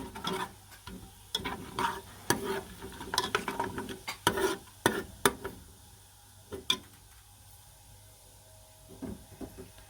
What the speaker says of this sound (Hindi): अब इसमें हम खड़े मसाले ऐड करेंगे, खुशबू आने तक इसको भूनेंगे।